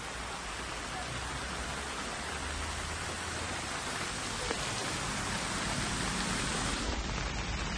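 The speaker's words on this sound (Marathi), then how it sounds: "पाऊस पण आता" Steady, dense hiss of heavy rain falling at Malshej Ghat, a continuous close wash of drops with a low rumble underneath and no clear pauses.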